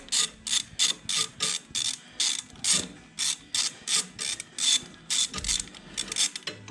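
A ratchet wrench clicks in quick repeated bursts, close up, while loosening bolts on a John Deere 1025R compact tractor. The rhythmic ratcheting runs throughout with no talking.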